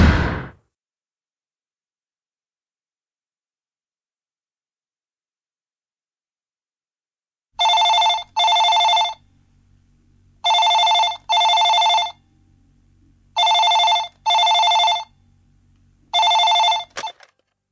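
A telephone rings in an indoor scene from a Telugu TV serial, loud double trills repeating in a steady rhythm after a long silence, close and alone with no talk.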